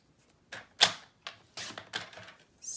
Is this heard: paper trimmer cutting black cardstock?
yes